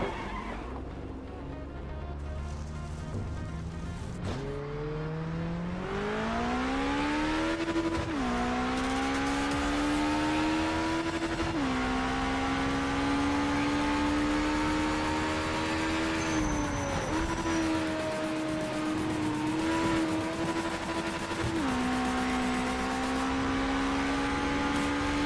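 A race car engine in a RaceRoom or Project Motor Racing sim race revs up through the gears, its whine climbing and then holding high near the rev limiter, loud and continuous with brief dips at shifts.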